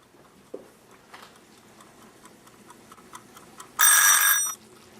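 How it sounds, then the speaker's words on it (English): A kitchen timer used while cooking caramel corn, a few faint ticks and clicks and then a loud, bright electronic ring lasting under a second before it stops. "Here's my timer."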